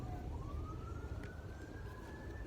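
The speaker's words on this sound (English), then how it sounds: "I hear sirens in the background." A police siren wails steadily in the distance in a small town, its pitch slowly rising, over a constant low rumble of traffic.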